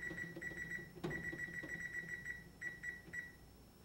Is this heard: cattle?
no